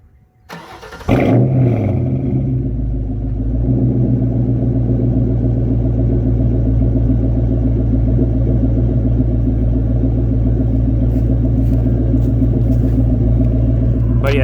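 A New Edge Ford Mustang fitted with 5-inch exhaust tips cranks and fires up, then settles into a loud, deep, steady rumbling idle close to the microphone for the rest of the recording.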